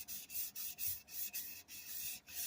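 Blade edge bevel drawn across a vitrified diamond sharpening stone, a steady rhythmic rasping rub with about eight even back-and-forth strokes, close and alone.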